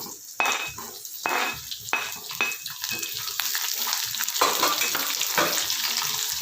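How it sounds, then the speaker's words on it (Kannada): Onions, curry leaves and dried chillies fry in oil for lemon rice, a close, steady sizzle with repeated scraping and clinking of a utensil stirring the pan, and no voices. "ಇದು ಚೆನ್ನಾಗಿ ಫ್ರೈ ಆಗಬೇಕು. ಇದು ಫ್ರೈ ಆದಮೇಲೆ ನೋಡೋಣ."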